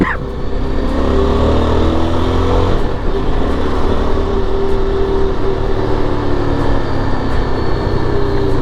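A Yezdi Adventure motorcycle engine pulls hard in first gear, a steady loud drone with rising engine tones, up close and continuous without talk.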